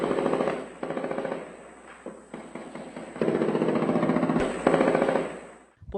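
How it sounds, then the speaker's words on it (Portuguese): Gunfire exchange between militiamen and drug traffickers in a Rio de Janeiro favela, sustained bursts of rapid automatic fire rattling in loud, dense stretches with brief gaps between them. "Houve uma intensa troca de tiros."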